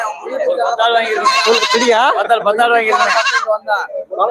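Local goats at the Ettayapuram goat market bleat loudly and close by in wavering, drawn-out calls that overlap with people talking nearby.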